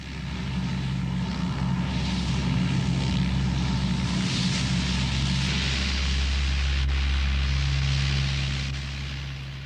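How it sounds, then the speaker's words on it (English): A giant Hercules transport plane lumbers down a runway for takeoff, its propeller engines droning loud and steady with a deep low hum and broad roar throughout, no voices. "As the giant Hercules lumbers down the runway for takeoff"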